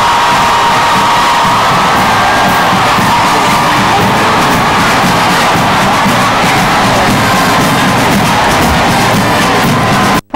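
A parade-ground crowd cheers and shouts loudly and continuously during a military drill display, a dense roar of whoops and voices that cuts off abruptly at the end.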